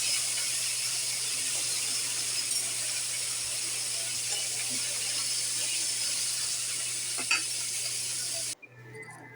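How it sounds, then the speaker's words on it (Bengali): Paneer cubes fry in hot oil in a wok with a steady, dense sizzle, close and loud, running unbroken until it abruptly drops away near the end. "কড়াইতে তেল বসিয়ে দিলাম এবার পনিরগুলোকে ভেজে নেব"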